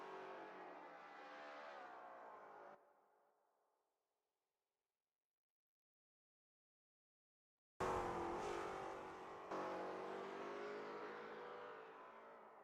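A Lola T70 MkII Spyder race car in a racing game, on a practice out lap at Österreichring: a loud, steady engine note cuts out to silence, then returns sharply with rising revs.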